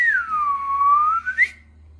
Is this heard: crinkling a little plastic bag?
no